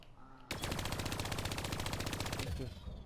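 Vehicle-mounted weapons in a video game open fire abruptly in a loud, rapid machine-gun burst of evenly spaced shots lasting about two seconds before cutting off.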